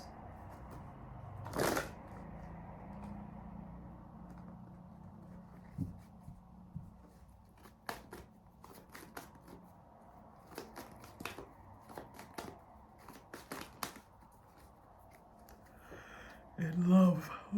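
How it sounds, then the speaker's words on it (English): Tarot cards being shuffled by hand, soft papery riffles and taps repeating irregularly at close range under a low room hum, with a louder flutter near the start and brief handling noise at the end. "I was shuffling for so long"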